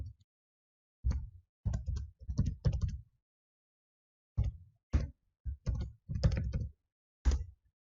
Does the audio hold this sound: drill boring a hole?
no